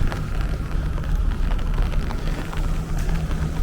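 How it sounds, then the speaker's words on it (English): Steady patter of light rain on a Brooklyn street, a soft continuous hiss with scattered drops and a low rumbling background. "That's what you would call a light rain right now."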